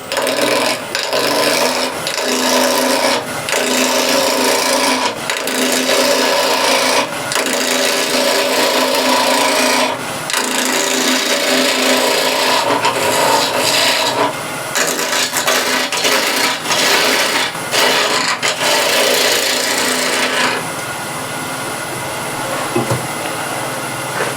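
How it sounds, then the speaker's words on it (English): Wood being roughed down on a lathe with a 1/2-inch spindle gouge, a loud continuous rasping hiss broken by rhythmic dips and knocks as the gouge passes, close up for over twenty seconds. "Rough it down with a 1/2-inch spindle gouge."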